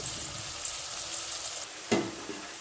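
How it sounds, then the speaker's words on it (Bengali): Chopped onions fry in a pan with a steady, hissing sizzle, close and even, broken by a brief scrape of stirring. "সমস্ত পেঁয়াজগুলো দিয়ে নিয়েছি বন্ধুরা আর এবার একটুখানি জাস্ট ভেজে নেব"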